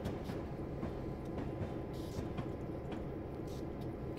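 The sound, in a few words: train rolling by in video game Train Sim World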